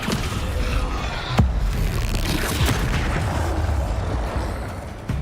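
A Descendo spell strikes in Hogwarts Legacy, landing as a sharp booming impact about a second and a half in, over a dense, rumbling game soundscape that stays loud throughout.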